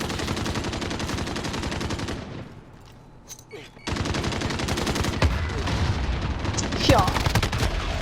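Rapid automatic gunfire in Call of Duty: Modern Warfare, long bursts of close, loud shots that pause briefly before firing resumes, with players talking during the action.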